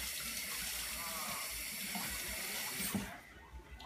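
Tap water runs steadily into a sink while a spoon is rinsed under it, a continuous close splashing that tapers off near the end, with no voices.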